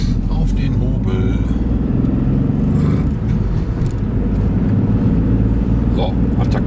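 A Ford Transit Courier van driving, with a loud, steady low engine and road rumble filling the cabin throughout.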